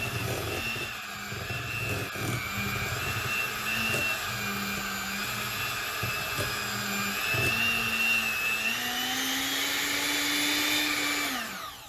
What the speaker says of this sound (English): I'm blaming my mixer.